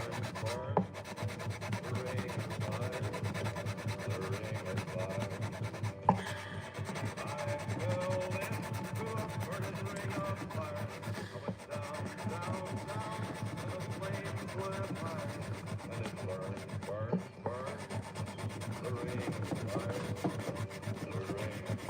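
A guitar being sanded by hand with 1,200 grit sandpaper, a continuous close, soft rubbing hiss that holds steady throughout with only small breaks.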